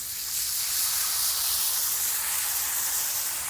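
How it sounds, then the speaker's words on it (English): Wine hits a hot sauté pan and sizzles with a steady, bright hiss of evaporating liquid, close and continuous throughout with no talking. "I'm gonna saute that like that. Touch of wine."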